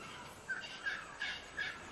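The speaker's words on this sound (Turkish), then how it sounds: "Hırsız kuş bir taraftan saldırdı." A thief bird attacking in the video game Ark Survival Evolved gives four short, sharp squawking calls, evenly spaced and moderately loud over a faint hiss, with no talk.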